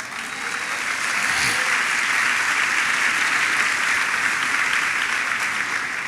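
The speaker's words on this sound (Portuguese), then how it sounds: "Recebo essas palmas para mim também" A conference audience applauds in a steady, dense wash of clapping that lasts throughout and stays at a constant loudness.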